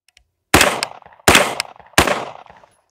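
Three sharp rifle shots, each a loud close crack with a short decaying tail, spaced about three-quarters of a second apart, fired until the rifle locks back on empty without a suppressor.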